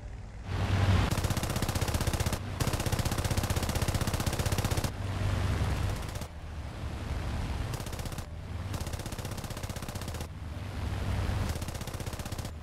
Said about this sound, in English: Dogfight developed in which Kane opened fire on two Messerschmitts.